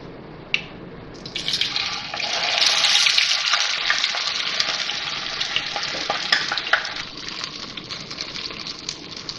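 Potato kebabs dipped in cornflour are slid into hot oil, and the frying swells into a loud, crackling sizzle with sputtering pops and a faint clink near the start. No one speaks.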